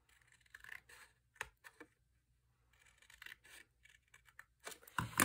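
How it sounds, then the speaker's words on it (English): Scissors snipping a small triangle out of a paper tag, a few quiet separate cuts with short rubbing pauses between, closing on a louder crisp snip. "come back in on that inside edge and cut a little triangle out"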